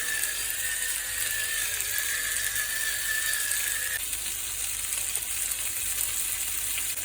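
Thick lamb chops frying in a hot pan, a steady close hiss and crackle of sizzling fat that carries through the whole stretch without talk.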